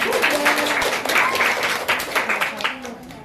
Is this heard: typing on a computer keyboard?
no